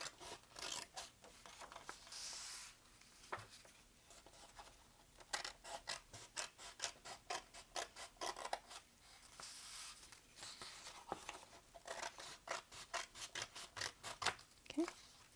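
Scissors snipping paper for a caterpillar craft, a close series of quick crisp cuts in rhythmic runs with brief pauses, rustling paper in between.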